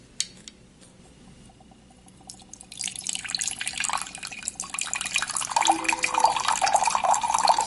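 Water poured from a wine bottle through a Metrokane Houdini aerator, a steady splashing gurgle that builds after a quiet start and continues loudly to the end, with no voices.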